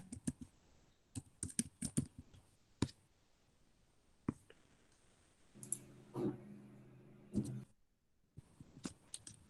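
Computer keyboard typing in a DBMS class, with bursts of quick clicking keystrokes and a longer run of rapid keys in the middle, close and fairly quiet, with no talk.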